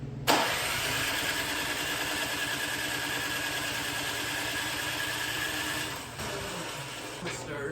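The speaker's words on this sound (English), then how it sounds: "I have to use the electric start to try to start it" A snowblower with a broken pull cord cranks steadily on its electric starter without catching, a loud, continuous mechanical whir close by for several seconds that dips briefly near the end.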